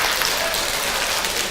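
A seminar audience claps together, a thick, sustained spatter of many hands filling the room, with talk partly mixed into the applause.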